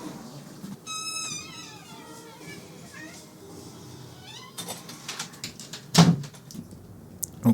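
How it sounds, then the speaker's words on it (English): A pet cat meows in a rising, wavering call while being carried to another room, followed by soft shuffling, a sharp knock and a few clattering handling sounds nearby. "I'm going to take my cat out to the other room."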